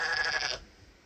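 A single sheep bleats once, a short wavering cry lasting about half a second, close by, followed by quiet.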